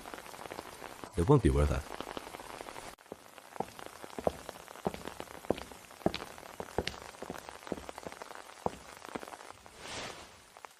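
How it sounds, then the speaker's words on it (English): Steady rain patters on an umbrella and the ground outside, a soft continuous drizzle running under a conversation between two people, with a brief louder rustle early on. "I can just wait for the rain to let up and walk by myself"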